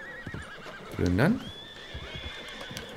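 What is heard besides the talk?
agitated horses neighing in video game Red Dead Redemption 2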